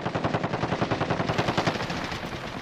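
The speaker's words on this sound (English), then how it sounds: "Getting shot from top." Sustained automatic gunfire from a Call of Duty match rattles in a fast, even stream of loud, close shots that runs for several seconds without a break.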